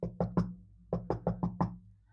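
Knocking on a wooden door in a children's story reading, three firm raps followed after a pause by four more, close and distinct with no voices over them.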